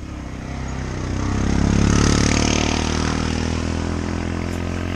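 Motorcycle engines idle with a low, rough rumble that swells to a peak midway and then settles, close by at an overlook in Ciudad Arce.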